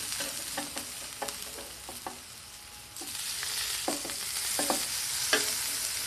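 A burger patty frying in a pan gives a steady sizzle that grows louder partway through, broken by scattered scraping and clicking taps of a utensil.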